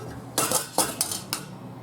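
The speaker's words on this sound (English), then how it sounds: "I'm making a bunch of noise. I'm getting a lid." Pots, pans and a lid clatter in a home kitchen during beef stroganoff cooking: a few sharp metallic clanks and rattles, close and fairly loud, in quick irregular succession.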